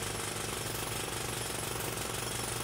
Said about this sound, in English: The excavator drill.